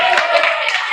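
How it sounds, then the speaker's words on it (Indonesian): Brief burst of classroom applause as students clap together for a classmate, dense and steady for about a second with no talk over it. "Kita berikan tepuk tangan lagi."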